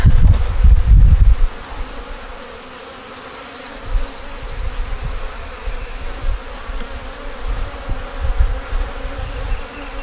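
Honeybees buzz steadily around an open hive during an inspection of a colony with brood, eggs and stores, a dense, continuous hum after a few loud close knocks and handling noises at the start.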